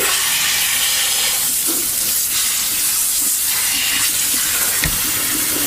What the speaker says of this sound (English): What I do is I hold my hand over her head, and I let the water run through it.